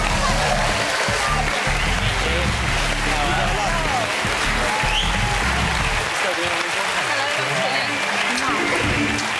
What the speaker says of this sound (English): please give a warm round of applause for the couple of the year, Jordan and Peter Andre